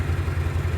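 A 2023 Vitacci Maximus800 800cc side-by-side UTV idles with a steady, low rumbling hum, close and even throughout the short moment.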